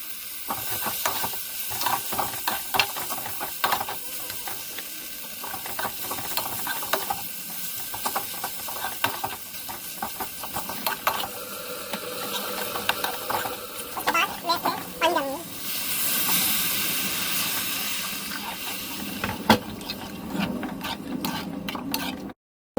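Soft sizzling and bubbling from a pan of chopped tomatoes for spinach kofta curry, with occasional clinks and scrapes of stirring, quiet and close.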